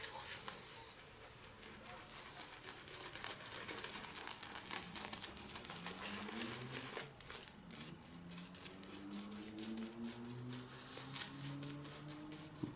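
A shaving brush swirls and paints Truefitt & Hill 1805 shaving cream into a lather, a dense, continuous wet bristle crackle and squish heard up close, with a few faint rising whistling tones partway through.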